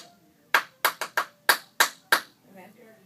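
A class claps a precise rhythm exercise in unison: seven sharp, loud claps in a quick pattern, close by, followed by a faint murmur of voices.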